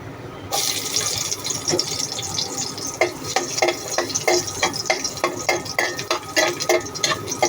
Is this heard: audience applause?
no